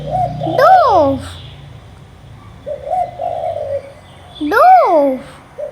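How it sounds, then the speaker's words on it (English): Dove cooing in soft, rounded, wavering notes: two strong coos at the start and end with a lower, gentler coo between them, all fairly close and clear over a faint background. "Dove."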